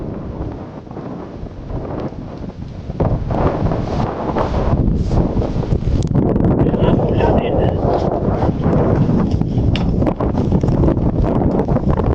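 Heavy wind buffets the microphone in strong, continuous gusts, growing louder after the first few seconds, with a faint hiss and rustle underneath.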